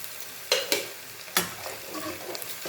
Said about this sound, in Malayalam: നമുക്കൊന്ന് ഇളക്കി കൊടുക്കാം നല്ലപോലെ.